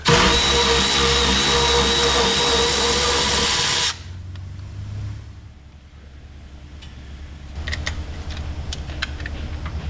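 Power tool spinning off a 3/4 nut from the upper front shock mount of a 1963 Lincoln Continental, a loud continuous whir for about four seconds, then quiet handling and clinking of metal parts.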